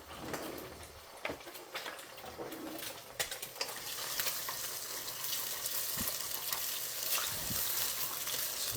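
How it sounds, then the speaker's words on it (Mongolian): Eggs sizzle and fry in avocado oil in a pan, a steady close crackle with occasional scrapes and clicks of a utensil, with soft bird cooing faintly in the background. "За ингээ энэ дээр шууд эхлээд өндгөө шарж"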